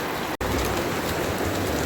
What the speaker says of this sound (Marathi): सध्या पाऊस पडतोय